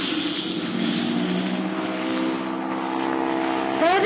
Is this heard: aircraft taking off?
yes